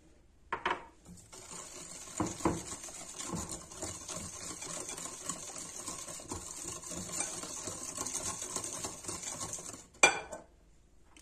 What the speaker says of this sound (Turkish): Şimdi bütün sıvıları karıştırıyoruz.